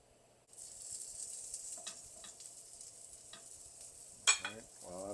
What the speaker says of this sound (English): I'm going to add my homemade cut bacon that's cut in 1/2 inch pieces into the pan.